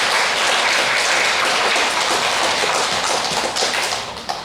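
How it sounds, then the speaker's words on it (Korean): A church congregation gives the Hallelujah choir a vigorous round of applause during Sunday worship, dense loud clapping filling the space and tapering slightly at the end. "거룩한 음성으로 주님께 찬양하는 우리 할렐루야 성가대에게 힘찬 격려의 박수 드리겠습니다"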